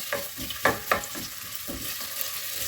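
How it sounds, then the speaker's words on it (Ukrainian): Onions sizzling and frying in a pan with bay leaf, a steady crackle with a few sharp stirring scrapes and pops, close up. "Смажу цибулю приблизно 2 хвилинки."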